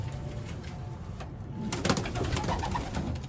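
Racing pigeons coo in a loft, soft repeated low coos and wing rustles close by over a steady background noise, with no talk.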